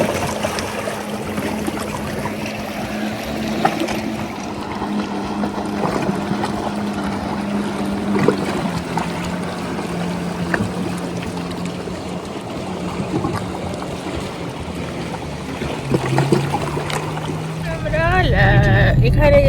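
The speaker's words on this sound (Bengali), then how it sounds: "জলের আওয়াজটা শোনো।" Sea water around the Big Tub lighthouse, a steady wash of waves and splashing with a low engine-like hum throughout, close and continuous, with people talking over it.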